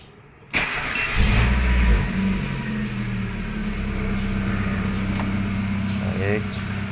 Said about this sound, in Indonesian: kita bisa menstarter mobil